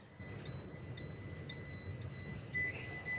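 Repeated electronic seatbelt warning chime dinging inside a car, steady faint tones pinging at regular intervals over a low road rumble.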